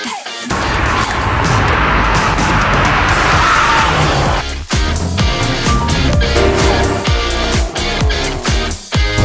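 A Kia Sorento 2.5 gasoline turbo, front-wheel drive, drives loudly with a roaring engine and heavy road and wind noise, followed by sharp knocks and rattles over the last half.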